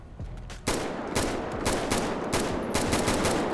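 Gunfire from a video game weapon mod set to semi-auto: a series of sharp, separate shots in an irregular rhythm, loud and close over a steady background hum, with no talking.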